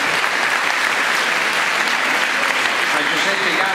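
Church congregation applauding the oratory and Mass choirs, loud continuous clapping from a large crowd throughout, close and even, with no pauses.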